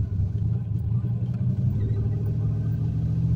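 A turbocharged 351W V8 in a Ford Fox Body running, a steady, loud low rumble that holds nearly constant throughout, heard from inside the car.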